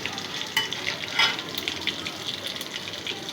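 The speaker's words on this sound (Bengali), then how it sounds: "মাছগুলো ফ্রাই করতেছি" Singh fish fries in a hot pan with a bright, steady sizzle and occasional sharper pops, close and continuous.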